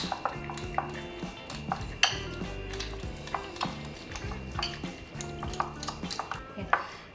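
Roasted eggplant is mashed in a bowl for baigan ka bharta. The close, irregular clinks and knocks against the dish come with soft squishy thuds in a loose rhythm.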